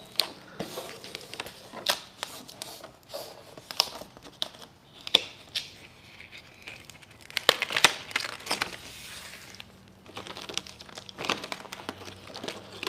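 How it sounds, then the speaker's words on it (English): Paper backing is peeled off architectural vinyl wrap in bursts of crackling, tearing rustle, close by, with irregular crinkles and short pauses between pulls and no talk. "So I'm removing the paper on both units."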